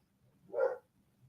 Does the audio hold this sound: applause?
no